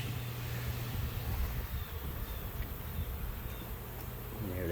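Bees being swept off honeycomb with a bee brush during a honey harvest give a steady, close insect buzz that holds throughout with a low droning hum underneath.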